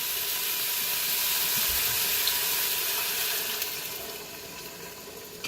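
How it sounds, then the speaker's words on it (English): Coconut milk pours into a hot pan of red curry paste for a Thai red curry, a steady broadband watery rush and hiss that holds loud for a few seconds and then eases slightly. "We'll just pour the coconut milk in."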